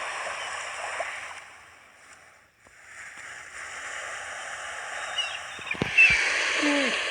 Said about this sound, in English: you can hear the water as well